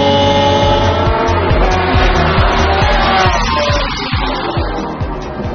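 A McLaren F1 supercar accelerates hard, its engine roaring loud and close with rising, stepped pitch through several gear changes before easing slightly at the end.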